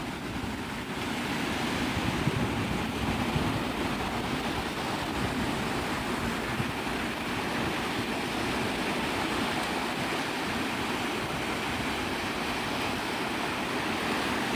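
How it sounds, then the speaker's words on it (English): Ocean waves at Navarre Beach, Florida break and wash continuously, a loud, dense surf roar with some wind, steady throughout with no talking. "These are just waves"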